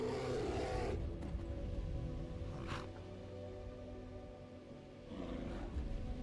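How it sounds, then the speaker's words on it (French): A bear roars in the Skyrim video game, a low growling call rising from dense game ambience and music, with a brief louder burst partway through. "J'entends un ours, hein, mais je sais pas où il est."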